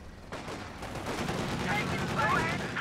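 Gunfire at a fighting position in the World War II strategy game Company of Heroes 2, a dense rolling stream of shots and blasts that starts abruptly and builds into a sustained, moderately loud barrage.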